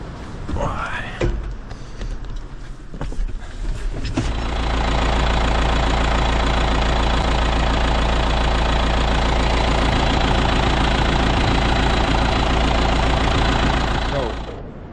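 A diesel engine with a fuel leak cranks with a few sputtering attempts, then catches and settles into a loud, steady knocking idle that runs to the end.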